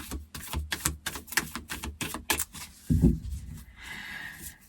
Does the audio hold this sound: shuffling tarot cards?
yes